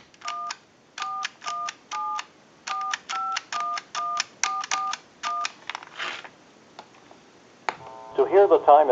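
A rapid series of short keypad tones from an AT&T Western Electric Trimline telephone beeps in an even rhythm, followed by clicks and a brief burst of ringing or line noise.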